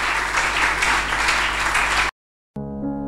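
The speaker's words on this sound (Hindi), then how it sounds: "यीशु के लिए जोरदार तालियां बजाएं" A church congregation applauds loudly and densely for about two seconds, then the clapping cuts off abruptly into silence, followed by a burst of music.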